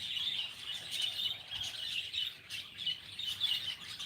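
A flock of birds twitters loudly from within a hedge, steady overlapping chirps close at hand and uninterrupted by voices.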